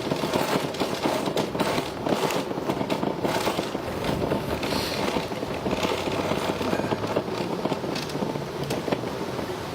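A cargo bike rattles continuously while being ridden along a quiet road, a dense clattering and buzzing rattle with irregular sharp knocks, close and steady throughout.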